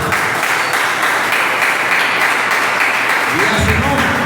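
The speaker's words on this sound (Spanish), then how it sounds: "Dale un aplauso a Cristo." Applause from a church congregation during a worship service, a loud, continuous wash of clapping hands close by that stays steady for several seconds.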